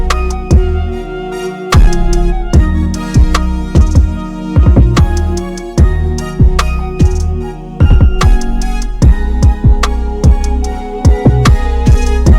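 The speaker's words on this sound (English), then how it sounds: "pull up Mellotron" Breathy flute-like sample tones from a Mellotron plugin flute patch on an MPC Key 37 Gen 2 sit inside a full, loud beat with steady punchy drums and sustained melodic layers, no voices.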